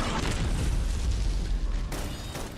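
A loud, sustained low rumbling boom from an attack explosion in the video game Love and Deepspace, dense and continuous for about two seconds before easing slightly.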